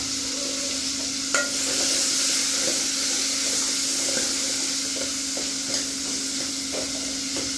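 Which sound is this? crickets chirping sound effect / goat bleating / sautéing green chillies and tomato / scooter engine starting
sautéing green chillies and tomato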